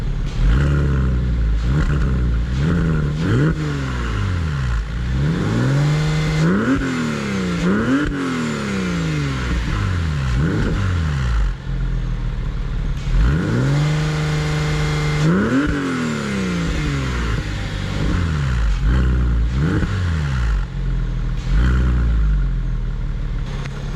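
A Porsche 911 engine revs repeatedly while driving around the block, loud and close, with rising and falling pitch sweeps between gear changes over a steady running drone.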